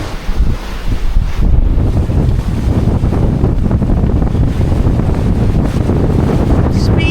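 Heavy, steady wind buffeting the microphone aboard a sailboat moving fast at sea, a constant loud roar with underlying wave and hull wash throughout.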